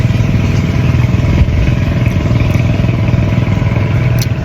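A boat engine chugs steadily and loudly nearby, a constant low rumbling drone with a clattery mid-range texture that holds even throughout, with no talking.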